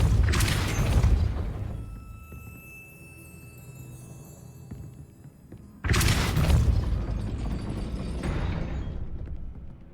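Spell effects from the video game Hogwarts Legacy, Accio and Depulso, land as two loud booming bursts, each followed by a lingering rumbling tail, with no talking.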